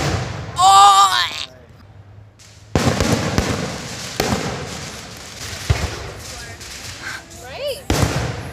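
Fourth of July fireworks exploding in a series of sharp, loud bangs and crackling bursts, with people shouting and reacting over them and a whistling launch near the start.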